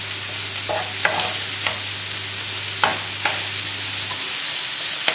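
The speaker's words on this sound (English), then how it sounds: "And just give the bacon a good stir, just to get it coated in the oil." Bacon stirred in a pan as it fries in a little oil: a continuous sizzling hiss broken by several sharp scraping clacks of a utensil against the pan, close up, with a low hum that drops out near the end.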